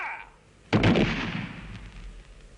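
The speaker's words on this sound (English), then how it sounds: "Firing party." A rifle volley from a military firing party at a Western Front execution: one sharp, loud crack of shots fired together, followed by a fading rumbling echo.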